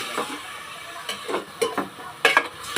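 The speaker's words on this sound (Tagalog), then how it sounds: "Niluluto ni lola. Kalahating kilong pork." Half a kilo of pork cooking in a pot for dinuguan, with soft scraping stirs and a few sharper clinks of utensil on metal over a faint low sizzle, fairly quiet and close.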